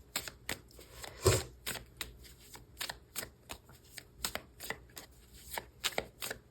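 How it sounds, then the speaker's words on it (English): Cards pulled and shuffled from a tarot deck: a run of crisp, close riffling snaps and flicks in an irregular rhythm, one louder thump near the start, with no talking. "I'm going to pull some cards now about this person's personality"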